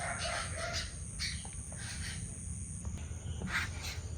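Birds call in scattered short chirps and clucks, faint and intermittent over a steady outdoor background hiss.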